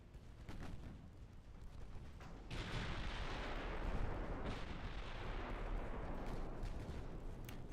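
A torpedo strikes a warship in the naval battle game Ultimate Admiral Dreadnoughts, a muffled low boom that swells into a sustained rumbling roar with scattered distant gunfire thuds.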